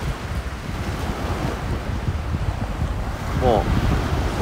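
Ocean waves wash onto the shore at an outdoor camping spot on a motorbike trip, making a constant rushing surf mixed with wind buffeting the microphone, with a brief voice near the end.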